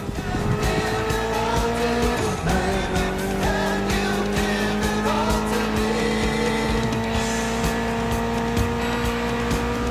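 A Gymkhana car in The Crew Motorfest drives hard, its engine droning steadily while tires squeal and skid in repeated bursts, loud and close for the whole stretch.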